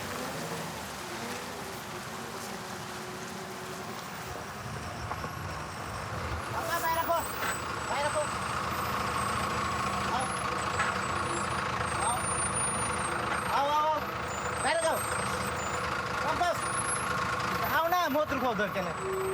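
Heavy truck engine rumbling steadily on a risky, broken road in Bangladesh, with a continuous low drone rising in level partway through, overlaid by voices talking throughout and occasional brief higher tones.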